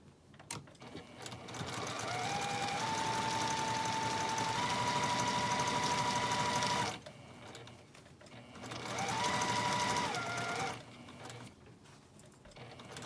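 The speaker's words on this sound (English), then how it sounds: "And then I stitch up to where I started, and then I back stitch" A sewing machine stitches a scrub cap sewn from a fat quarter, a long steady whirring run, a brief pause, then a shorter back-stitching burst, close and alone.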